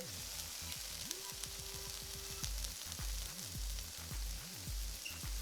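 Ginger and onions sizzle in a pan for chicken fried rice, a continuous soft hiss of frying heard close up, with low tonal hum and a few faint clicks beneath it and no voices.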